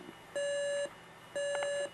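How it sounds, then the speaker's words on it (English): A General Electric 7-4663A clock radio alarm sounds two steady electronic beeps, each about half a second long with a pause between them. The tone is clear and close, with faint handling noise around it. "There we go, there's our alarm."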